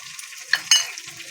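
Spices being fried in a pan for a mutton curry, giving a short stirring scrape and light sizzle with two quick louder bursts, close and alone with no voices.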